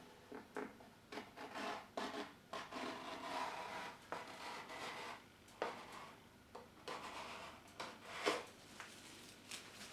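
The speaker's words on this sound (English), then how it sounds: "I'm now going to use the Fugi tool to tool off that silicone." Silicone sealant bead being smoothed with a Fugi tool, giving soft, close scraping and rubbing strokes in an uneven rhythm, faint and alone without talk.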